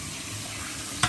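Cold tap water runs steadily over frozen green mussels in a kitchen sink, rinsing off the ice, with a short louder splash near the end.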